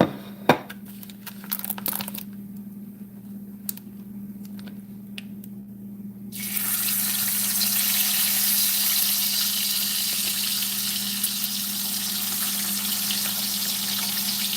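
Thick-cut wild boar bacon frying in a pan, starting quietly with a few crackles and pops over a low hum, then breaking into a loud, steady, broadband sizzle partway through that continues to the end.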